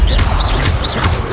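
An Incendio fire spell goes off in Hogwarts Legacy with loud, crackling whooshes of flame, several quick fiery bursts in rapid succession, close and forceful.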